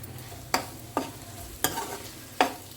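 Okra curry frying in a pan, a soft continuous sizzle with four distinct spatula scrapes spaced about half a second apart, near and moderately quiet.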